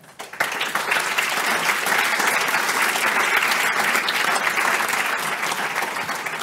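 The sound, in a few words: applause for the panelists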